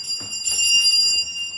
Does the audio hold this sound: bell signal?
yes